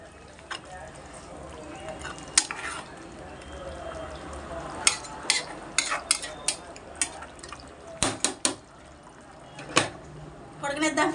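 A ladle stirs a Godavari jallalu fish curry in a pot, scraping and clinking against the metal in a series of sharp knocks over a low bubbling simmer.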